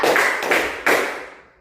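A class of students claps hands in unison on a count, three crisp group claps spaced evenly and close, each decaying quickly, with no talking over them.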